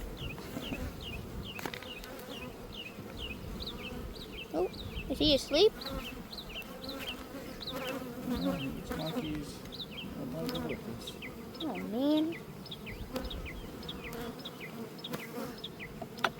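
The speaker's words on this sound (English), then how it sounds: "I hear the flying and buzzing at 10 times louder." Swarms of honey bees fly and buzz around an open hive during a hive check, a dense, steady drone lasting throughout, while people talk intermittently over it.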